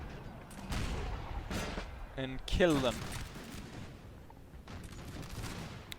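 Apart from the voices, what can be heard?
artillery firing canister shot in the video game Napoleon Total War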